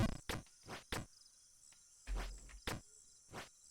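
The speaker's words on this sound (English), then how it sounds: "These crickets though are gonna drive me absolutely insane." Crickets chirp in the Jump King video game, giving short buzzy bursts at an irregular pace, fairly faint with quiet gaps between them and no talk.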